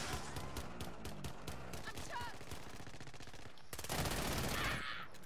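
Rapid bursts of automatic gunfire in a shooter video game, rattling repeatedly in quick strings with a loud sustained volley near the end, under game noise.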